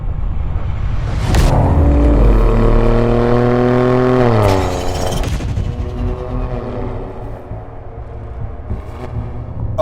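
Maserati GranTurismo GT with a 490 hp engine accelerating hard, loud rising engine note sweeping up through the revs, a brief gear change midway, then settling into a steady roar as the car pulls away smoothly.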